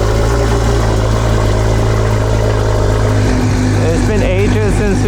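A retuned Mercedes S-Class idles with a steady, loud, low engine hum, and a voice briefly rises over it toward the end.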